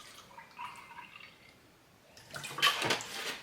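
Milk is poured into a blender for a mint choc chip frappe, a soft liquid splash that builds into a louder, gurgling pour in the second half, fairly close.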